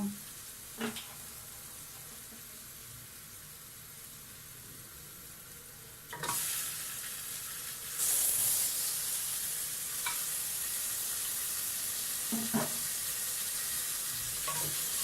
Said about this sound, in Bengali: পেঁয়াজের সাথে এটা ভাজতে থাকবো।